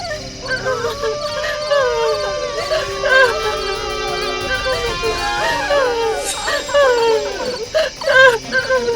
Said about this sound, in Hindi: आज भी वहीं से रोने की आवाज आ रही है।